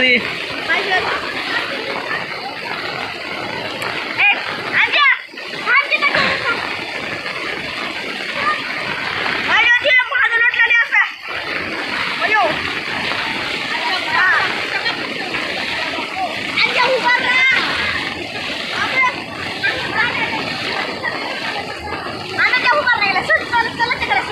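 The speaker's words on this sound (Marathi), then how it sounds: "एवढा पाण्याचा प्रहार आहे" Floodwater rushes and splashes through a village in a steady, loud wash of water, with voices talking over it much of the time.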